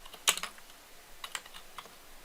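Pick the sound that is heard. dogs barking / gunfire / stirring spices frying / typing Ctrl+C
typing Ctrl+C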